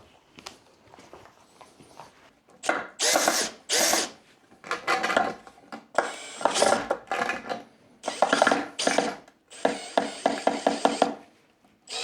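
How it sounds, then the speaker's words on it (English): A power drill backs old screws out of a wooden boat hull in repeated bursts, whirring spins broken by pauses and grinding catches, close and loud with no talk. "Now we just need to take out these old screws."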